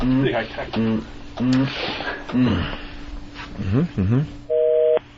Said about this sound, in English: The line is fucking engaged.